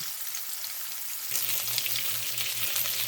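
Pecan-crusted chicken fries in a pan with a steady, hissing sizzle; the crackle grows fuller partway through as a low hum joins in, continuing alone without voices.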